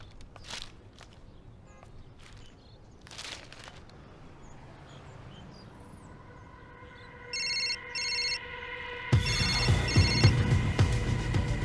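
A telephone rings in a home during a morning breakfast scene: two short electronic ring bursts after soft footsteps and clatter, then a louder continuous ringing over busier background noise.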